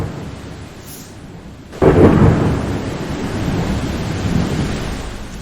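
Heavy rain with a sudden loud crack of thunder as a sound effect, steady rainfall hiss before a sharp thunder burst that rolls and rumbles on under continuing rain.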